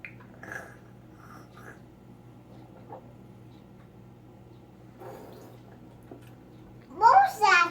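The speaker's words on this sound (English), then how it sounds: "It's bubbles." A short burst of bubbling water sound rises near the end, loud and close after a long stretch of faint child speech and quiet background.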